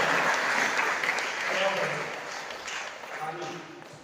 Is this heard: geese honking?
no